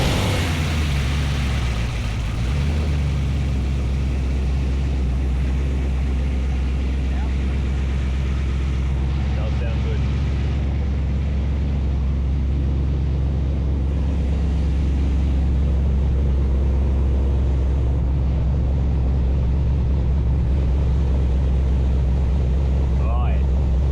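A supercharged VF2 car engine runs on a dyno with a steady, loud, droning roar that holds constant throughout, deep low rumble under a broad noisy wash.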